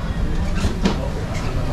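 An overnight passenger train in Iraq rumbles and clatters as it begins rolling, low mechanical noise with faint rail squeaks, a steady moderate drone.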